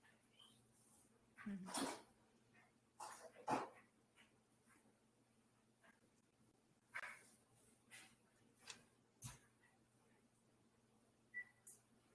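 A pet dog whimpers, yips and gives a few short barks indoors, faint and intermittent against quiet room noise, with scattered sounds between the calls.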